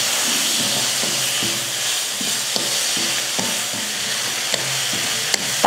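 Tomatoes sauté with onions in a pan, giving a loud, continuous hiss and sizzle with steam. Faint rhythmic scrapes come from stirring, and no voices are heard.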